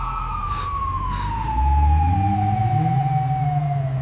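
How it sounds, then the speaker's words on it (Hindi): A siren wails loudly with a long falling tone, joined by deep rumbling of heavy vehicles. "ये सायरन क्यों बज रहे हैं?"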